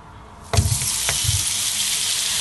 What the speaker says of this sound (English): So now I'll be browning the meat.